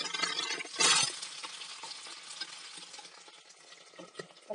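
Boiled soybeans drop into hot oil in a pan with a loud burst of sizzling, which then settles into a steady, crackling fry close by, with no talking.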